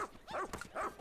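A dog in the video game Pikmin 4 gives a couple of short, yappy barks and whimpers in quick succession, close and clear, with no talk.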